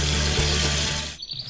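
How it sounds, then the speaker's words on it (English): Water spraying from a DIY miniature farm watering system fed from a pond, a loud, steady hiss of spray that cuts off abruptly near the end, leaving a thinner trickle. "Water starts spraying."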